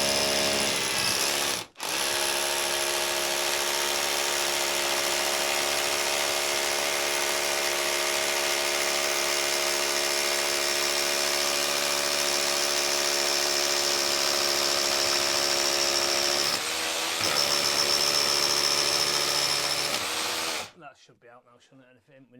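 An electric power drill runs steadily through stone behind a breeze block wall, giving a loud, sustained whine with one brief dropout early on. The pitch shifts slightly near the end before the drill cuts off abruptly.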